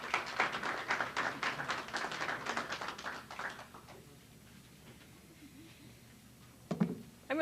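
Applause from a relatively small audience welcoming a speaker at a wildlife association event, a dense patter of clapping for about three and a half seconds that fades out, leaving near silence before a brief noise at the end.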